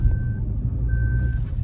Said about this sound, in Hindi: हमारी तो बेल्ट लग रही है पीछे से, वहां कोई बैठा नहीं है तब भी आवाज क्यों दे रही है भाई